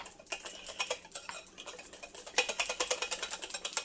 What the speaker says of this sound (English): Sometimes your cream cheese will get caught up in the whisk, so I start off first with my fork.